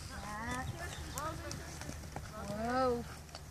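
A ridden horse's hooves clip-clop under nearby talking, with a child's and an adult's voices over it while the horse moves on concrete near a gate at an Easter outing.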